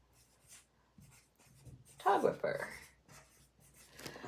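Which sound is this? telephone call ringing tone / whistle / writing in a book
writing in a book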